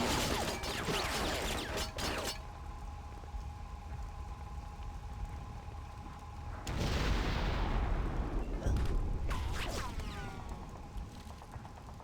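Turret gunfire in the video game Conker: Live & Reloaded, a dense crackling barrage that cuts off, then returns as a loud rushing burst of fire and continues rattling, with no talk over it.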